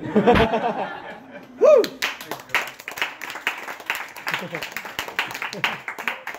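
At a small private magic show, a few people clap in quick, scattered bursts mixed with laughter and chatter. A brief whoop cuts in early, then the clapping carries on at close range.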